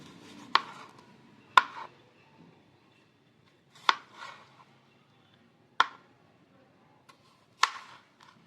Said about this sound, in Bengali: এবারে আমি টমেটোটাকে কেটে নিব